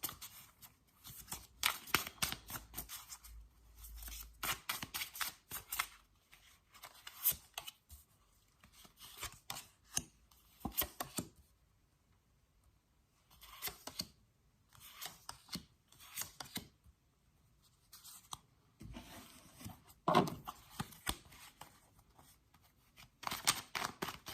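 Tarot cards being shuffled, flipped and laid out on a table during a reading, a steady run of papery snaps and slides in close, quiet bursts, with short pauses between.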